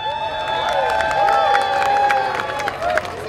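Large outdoor crowd at a downtown tree lighting cheers, whoops and applauds to welcome the Mayor of New Bedford, a sustained steady roar of clapping and shouts with scattered high calls throughout.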